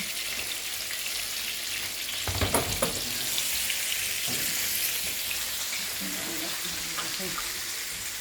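Fish frying in hot oil in a pan, a steady bright sizzle with a few clatters and louder bursts as the pieces are handled, close and continuous.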